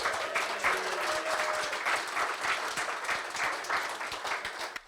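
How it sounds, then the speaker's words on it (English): Steady applause from a crowd at an architecture awards presentation, dense clapping that holds at an even level for several seconds before tapering at the very end. "Please give him another round of applause."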